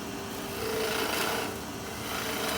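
A gouge on a wood lathe takes a heavy, deep planing cut while turning a wooden snowman, making a continuous rasping, scraping hiss that swells and eases without pause.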